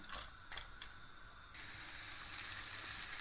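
Walnuts roast in butter in a pan with a steady, soft sizzle and faint crackle, a few light scrapes or stirs early on, the frying growing a little louder partway through.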